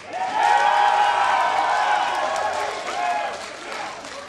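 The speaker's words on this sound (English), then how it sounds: "let me hear you guys cheer in the audience for Curse" An esports audience at a League of Legends regional match cheers and claps together, a broad sustained roar that peaks early and slowly fades over a few seconds.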